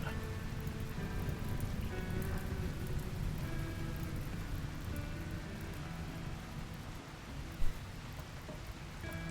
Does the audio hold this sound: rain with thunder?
yes